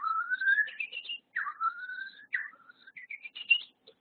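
Nervous chatter call of a quail, a string of clear rising and falling whistled notes in several short bursts over four seconds, fairly close and alone against a quiet background.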